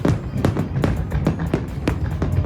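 Fireworks at a New York celebration, a rapid series of sharp bangs and crackles popping every fraction of a second over a dense rumbling crowd-and-city background, moderately loud.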